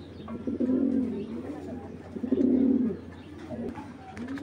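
Giribaz tournament pigeons coo in two long, throaty rolling phrases near the mic, with a shorter coo toward the end and a faint hum of background noise underneath.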